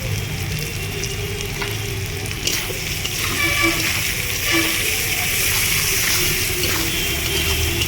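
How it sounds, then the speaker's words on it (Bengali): Onion and potato fry together in a pan with vegetables, a continuous crackling sizzle with occasional pops and faint stirring, close by with no talk. "পেঁয়াজটা আলুটা একসঙ্গে ভালো করে একটু ভাজা ভাজা করে নেব"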